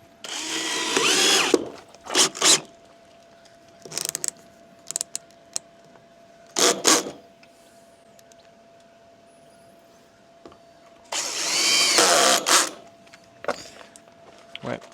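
A cordless screwdriver whirs in several separate bursts while driving screws into a vent grille that has been sealed with silicone, with short pauses and clicks between runs.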